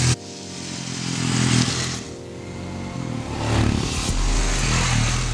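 A Royal Enfield Himalayan adventure motorcycle runs on the Chennai racetrack, its engine droning loudly and steadily close by, with a couple of rising swells as the throttle opens.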